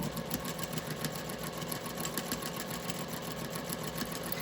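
Sewing machine running steadily while quilting a gift bag, stitching straight across along a guide, a continuous mid-level mechanical whir with fast needle ticking and no pauses.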